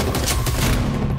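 Dense burst of automatic gunfire from a movie trailer action scene, loud, continuous rapid shots with heavy low rumble and no talking.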